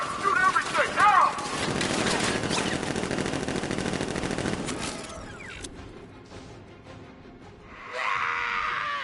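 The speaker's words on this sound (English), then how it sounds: "Open fire! Shoot everything, now!" Dense automatic gunfire roars through Batman Arkham Knight combat, sustained rapid bursts layered with crashes and mechanical clatter for several seconds, then easing off as a voice comes in near the end.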